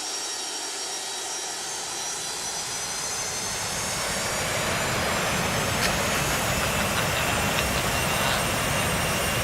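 MD-80 jet engines in X-Plane 11 spooling up to a loud, steady roar on brake release for takeoff, the broadband rumble and whine swelling over the first few seconds and then holding strong and close with no talk.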